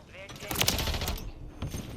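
Striker 9 submachine gun from Modern Warfare III firing in game: a loud, fast automatic burst crackling for about a second, trailing off, with a few later shots.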